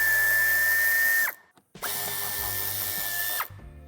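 A power drill spins in two long whining bursts with a brief pause between, backing screws out of the wheel arch lining on a 2020-2025 Citroën C5 Aircross Hybrid PHEV; the sound is close and loud with no talk.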